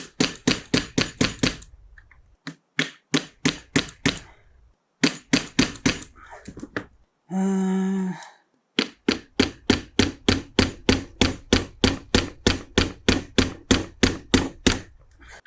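Sharp hammer blows strike seized screws during moped engine work, landing in fast rhythmic bursts of close, loud knocks with short pauses between series, plus one brief buzzing tone in the middle.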